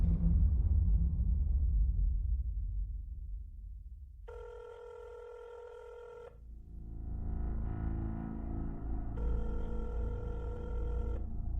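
A telephone rings in two electronic bursts separated by a pause, the call going unanswered toward voicemail, with a low rumbling drone fading beneath and then rising again.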